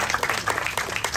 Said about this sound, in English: I think we need to give him a big round of applause today.